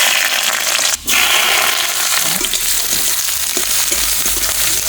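Greens and garlic fry in mustard oil in a wok with a loud, steady, hissing sizzle and light crackling, broken only by a brief dip in sound about a second in.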